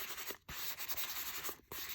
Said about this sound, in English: So I'm going to sand it a little bit, just with this sanding block.